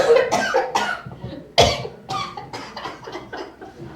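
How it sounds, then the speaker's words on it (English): A person coughing repeatedly after choking on a cough drop during a live talk show, with a series of close, harsh coughs, one especially sharp in the middle. "I just choked on a cough drop"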